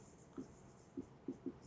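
Chalk or marker writing on a board during a physics lecture on dot and cross products of vectors, four short taps and strokes spaced irregularly, faint and close in a quiet room with no talking.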